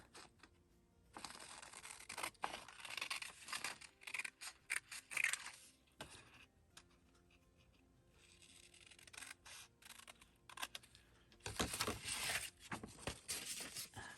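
Scissors cut the August section off a paper calendar, giving faint close snips and rustling paper in uneven bursts with short pauses between them.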